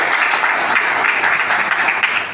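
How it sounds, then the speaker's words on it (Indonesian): A crowd at a Karang Taruna youth organisation ceremony in Central Java breaks into applause, a brief, close burst of steady clapping from many hands with no voices on top. "Tepuk tangan untuk kita semuanya."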